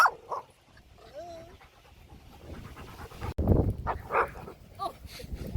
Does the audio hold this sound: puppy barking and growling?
yes